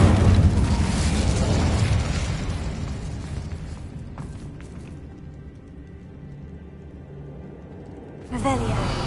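An Incendio fire spell cast in Hogwarts Legacy, a loud whooshing, rumbling burst of flame that fills the first seconds and fades, with a fresh crackling flare near the end, over game ambience.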